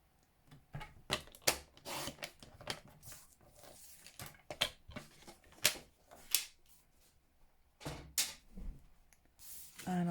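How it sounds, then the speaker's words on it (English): A paper trimmer slices cardstock down to card-front size in a series of short, sharp, close swishes and scrapes spread across the clip, separated by quiet pauses. "So I'm going to trim this down to 4 inches by 5 3/4"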